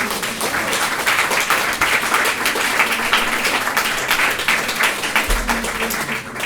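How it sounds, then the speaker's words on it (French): Audience applause after a talk on Jewish music and cuisine, thanking the cooks and servers for the evening's food: a steady, dense wash of clapping from a crowd, sustained throughout at even loudness with no pause. "les applaudir."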